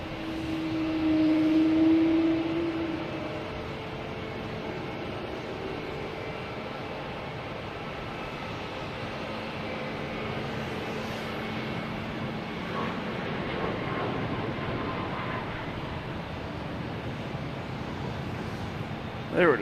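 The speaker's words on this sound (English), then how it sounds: "next taking off is United Airlines heading to Houston. Flight 1851, 737, MAX 8." United Airlines Boeing 737 MAX 8 taking off at Boston Logan, a distant broad engine rumble that slowly builds and swells through the middle, with wind noise and a voice briefly heard over it.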